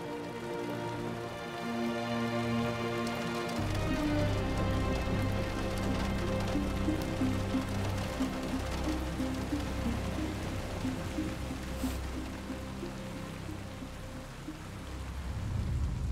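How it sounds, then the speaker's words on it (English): Steady rain in the Gotham Knights video game, a constant wash of falling water lasting throughout, under a sustained low musical drone and tones. "I feel like it's always raining in Gotham."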